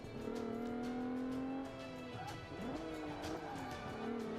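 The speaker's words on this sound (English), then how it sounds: "the unmistakable, amazing sound coming from the 333 horsepower V6 turbo engine located under the hood" A 333-horsepower turbocharged V6 engine of a 2013 Audi S4 in the racing game Forza 5 revs steadily at high pitch, dips briefly, then climbs again as gears shift, loud and continuous with no voices.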